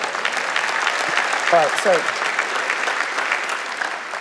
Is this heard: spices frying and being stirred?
no